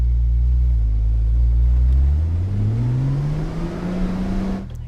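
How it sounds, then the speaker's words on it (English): A Porsche 911 Turbo engine climbs from a deep, loud idle rumble into a rising rev, its pitch sweeping upward over a few seconds, then settling before cutting off abruptly. "Let's rev it a little bit."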